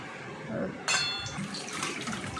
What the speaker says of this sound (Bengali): মাছগুলোও খুব ভালো করে ধুয়ে নিচ্ছে অনেকবার করে মাছগুলো ধুতে হবে